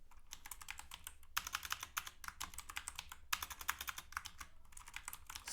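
Steady typing on a computer keyboard, close and clear, with dense rapid key clicks and a couple of brief pauses, no voices.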